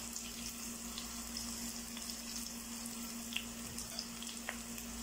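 Spices sizzling in hot oil in a pan while making a dates pickle, a steady close frying hiss with faint crackles and a few small pops, no voices.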